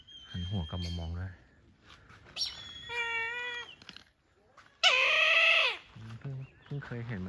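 A zoo eagle gives a loud, drawn-out, cat-like cry standing out between stretches of close conversation in Thai, with other harmonic calls and voices around it.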